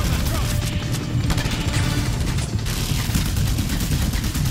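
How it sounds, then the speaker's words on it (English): Dense, rapid gunfire from a Just Cause 2 firefight rattles on continuously at close range, loud bursts blending into a constant barrage of shots aimed at an enemy. "let's see if we can shoot him out"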